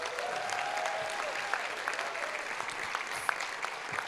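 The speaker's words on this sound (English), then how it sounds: "Please join me giving a warm round of applause to Fernando Ferrer." An audience at a college commencement ceremony gives steady, even applause, a continuous wash of many hands clapping at moderate distance with no voices over it.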